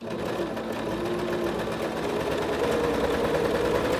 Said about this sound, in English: I'm going to lower my presser foot to get ready to start sewing, and then I'll push the pedal.